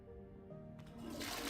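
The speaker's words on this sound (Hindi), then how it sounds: "ऐसे फ्लश कर दो, बस।" A toilet flushing inside the Hogwarts Legacy video game, a rising watery rush that swells toward the end over a steady background game hum.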